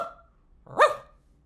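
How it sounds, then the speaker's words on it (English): A tiny dog gives a single short, high-pitched bark, close and alone after a moment of quiet, with a brief faint tone just before it. "Oh, that's a tiny dog"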